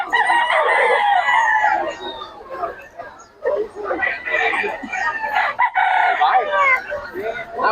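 Several roosters crow repeatedly in overlapping calls, with clucking and people talking in the background nearby.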